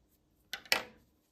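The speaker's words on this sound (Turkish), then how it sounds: "hemen parça iplerimi keseceğim" Scissors snip the loose yarn ends on a handmade crocheted drawstring pouch. There are two quick, faint clicks close together in an otherwise quiet moment.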